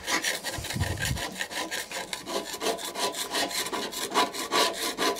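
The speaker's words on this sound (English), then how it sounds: "So let me get this deck scraped off" A tool scrapes oxidization off the deck of a Hayter 41 lawnmower in quick, rhythmic rasping strokes, close and fairly quiet, with a short low thud near the start.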